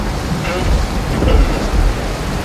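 Rain and wind from Storm Brennan beat steadily outdoors around an A-frame camper, a loud, continuous wash of rain with low gusty rumbles and no talk.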